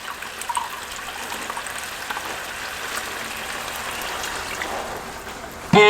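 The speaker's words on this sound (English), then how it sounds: "you're gonna take about a half a cup of your liquids, which is your vinegar" Vinegar poured into a pan of chicken adobo cooking on the stove, a continuous hissing sizzle and pouring wash, fairly close, with a brief louder clatter at the end.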